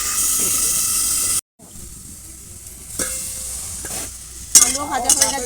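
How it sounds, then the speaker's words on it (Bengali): Potatoes fry with salt in a pan: a loud, close hiss of sizzling oil cuts off briefly, then returns softer with stirring scrapes and crackling bursts building toward the end. "আলুটা একটু ভেজে নেওয়ার সময় যাতে একটু সেদ্ধ হয়ে যায়"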